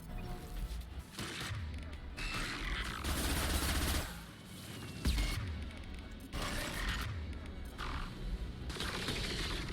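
Gunfire rattles in the Mass Effect 2 sci-fi shooter video game, with bursts of automatic fire and heavy impacts separated by short lulls, fairly loud against a busy game soundscape.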